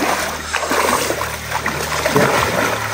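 Continuous splashing and rushing water as someone bathes in a cold forest stream, loud and close with no pause.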